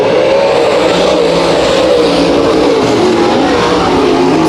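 Race cars roar around Bakersfield Speedway during a heat race, loud, continuous engine howl with rising and falling revs as the pack circulates close by.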